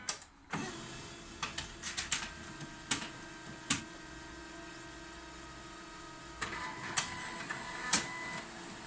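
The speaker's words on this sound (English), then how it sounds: "So you switch on your machine again" A Canon iSENSYS MF635C printer powers up after a toner cartridge change, giving off scattered mechanical clicks and ticks over a faint steady hum, with a cluster of clicks toward the end.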